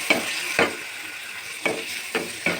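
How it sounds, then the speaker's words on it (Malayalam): Onion and tomato sautéing in a pan for a veg curry, a soft continuous sizzle broken by several sharp scraping strokes of a spoon against the pan at irregular intervals. "അത് ചേർത്ത് നല്ലോണം വഴറ്റി കൊടുക്കാം."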